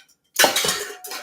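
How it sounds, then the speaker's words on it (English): A measuring spoon scrapes cooked bacon out of a dish in a home kitchen, making a short burst of close metallic scraping and clinking that lasts under a second. "Get this measuring spoon here. Get it all out. All the bacon out of there."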